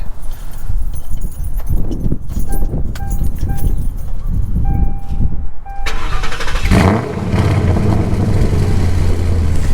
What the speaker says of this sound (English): the car has a full stainless works exhaust system and tune